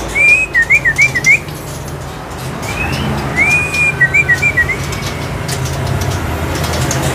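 Magpie robins (murai trotol) at a bird dealer's shop whistle bright, rapid phrases, a quick repeated burst near the start and another longer run midway, over a steady background hum.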